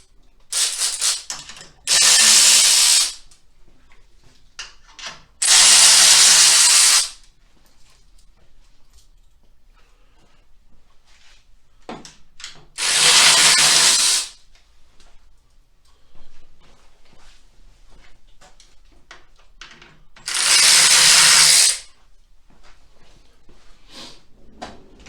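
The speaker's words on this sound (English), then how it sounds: "we're just going to remove the turn signal bolts" Tool work on Harley-Davidson bagger turn signal bolts: four loud, harsh bursts of one to two seconds each, separated by quieter stretches of small clicks and handling noise, with no talking.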